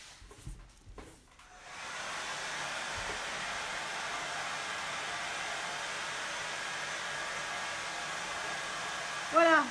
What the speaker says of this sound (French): On peut faire un petit coup de sèche-cheveux.